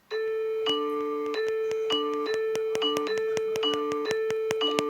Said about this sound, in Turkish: Zil çalmayı denerim mi?